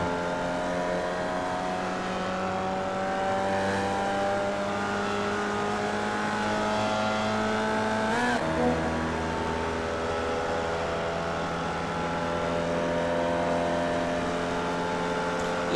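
Simulated Formula Vee race car in iRacing at Okayama International full circuit, engine droning steadily under load with a brief gear-change dip mid-run before the tone settles again, close and continuous with no talk.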